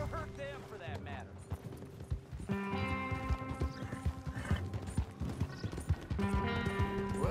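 Horse hooves clip-clop in Red Dead Redemption 2, a steady run of hoof beats set against game music and ambience, with a brief whinny near the start.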